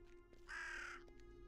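A raven in a video game lets out a single loud, harsh caw lasting about half a second over a faint steady background hum.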